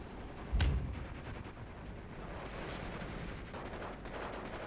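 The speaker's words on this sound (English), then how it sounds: "And as we see, grenades, bad for your health." A grenade explodes in the Steel Division 2 war game as a single deep muffled boom early on, followed by a low rumbling battlefield background.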